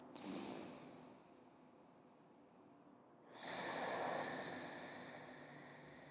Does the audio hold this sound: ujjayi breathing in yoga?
yes